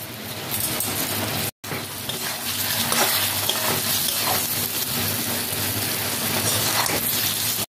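Chicken with whole spices and shahi garam masala stir-fried in a pan, a loud close sizzle with repeated scraping stirs and a brief cut partway through.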